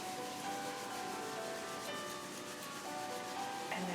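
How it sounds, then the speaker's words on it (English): Palms rub together briskly during a yoga session to build warmth, making a steady, close, dry swishing friction that continues unbroken throughout with no talk. "rub your hands together till you get some warmth going here"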